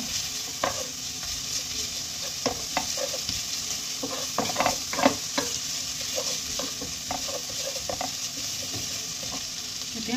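Onion, ginger and garlic frying in oil for prawn pulao, a low steady sizzle under a series of sharp spatula scrapes and taps on the pan.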